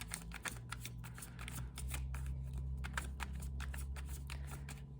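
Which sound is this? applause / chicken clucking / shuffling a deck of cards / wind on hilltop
shuffling a deck of cards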